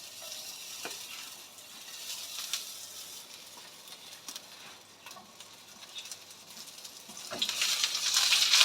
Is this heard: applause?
no